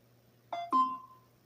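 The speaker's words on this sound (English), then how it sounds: "Forgive me on the notifications from a social media outlet." A social media notification chimes as two quick electronic beeps, the second ringing out longer, faint over a quiet low hum.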